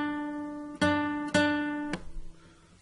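Guitar plays the same note three times on the second string, three plucked notes that each ring out clearly, alone and close, with a slightly slower gap before the third.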